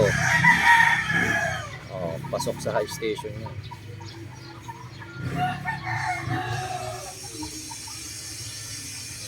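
A gray gamefowl rooster, WPC-banded, crows near the start amid farmyard clucking, while someone talks over much of the sound.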